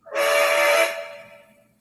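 A single steam locomotive whistle, a short bright blast that swells quickly, holds briefly and then fades away, heard alone.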